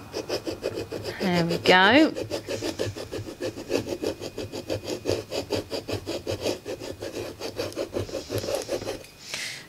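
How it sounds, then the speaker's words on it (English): Transfer tape is scraped firmly onto a frosted glass lantern in quick, rhythmic rasping strokes, close and steady throughout; a short remark is spoken partway through. "I'm just going to go and give it a really good scrape and make sure that it all adheres"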